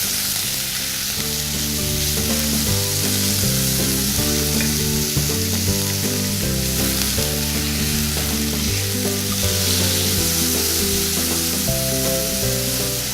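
Filet mignon sears in a hot pan, a loud, dense, unbroken sizzle with faint crackles, close up and with no voices.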